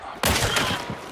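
Loud, close gunfire breaks out in the Hunt: Showdown video game after a short quiet lead-in, a sudden sharp burst that rings and rumbles on to the end.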